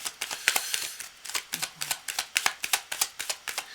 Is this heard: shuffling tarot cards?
yes